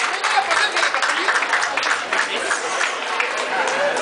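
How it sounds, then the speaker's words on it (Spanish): A crowd applauding continuously at an awards ceremony, dense clapping with cheers and chatter blended in, steady and moderately loud throughout. "Fuerte el aplauso para Julio de Tacubaya hoy."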